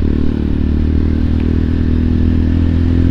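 Motorcycle ridden over a dug-up, broken road in Bareilly, a steady close engine drone with clattering and scraping from the rough surface throughout.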